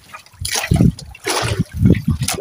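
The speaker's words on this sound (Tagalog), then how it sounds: "Ito yung mga alon." Sea waves splashing in uneven bursts, several close watery slaps and sloshes rising and falling over a couple of seconds.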